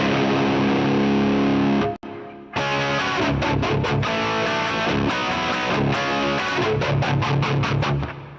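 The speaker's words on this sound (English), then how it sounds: "And then here's the flanger." Distorted electric guitar chords through a Helix Rack flanger effect with a sweeping, whooshing jet-like modulation, briefly stopping, then chugging rhythmic strums with the swirling effect continuing.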